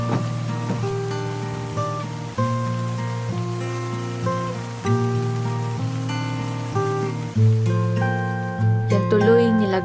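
Steady rain falls throughout, a continuous wash of patter under gentle melodic music that keeps playing from start to finish.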